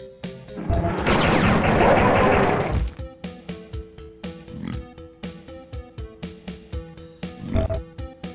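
Pig cop enemy in Duke Nukem 3D oinking and grunting amid a loud burst of crashing game noise, followed by a run of sharp repeated hits and snorts at a steady rhythm.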